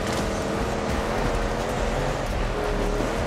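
A car drives in Far Cry 6, a steady engine and road rumble holding at a constant loudness throughout, with no voices over it.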